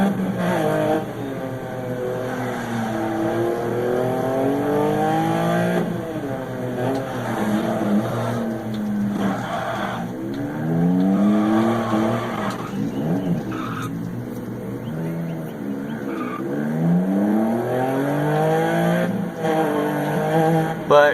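Rally car engine and tires in the Dirt Rally video game on a Germany stage: continuous loud engine with repeated rising and falling revs through gear changes, tire noise underneath, steady for about twenty seconds.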